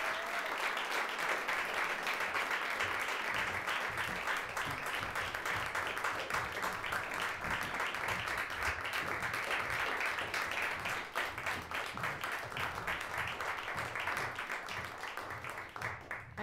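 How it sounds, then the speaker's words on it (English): Sustained, dense applause from an audience at a state poetry recitation final, steady clapping for about sixteen seconds that fades slightly toward the end, with faint crowd murmur beneath. "Everyone, please give a round of applause for all of our participants."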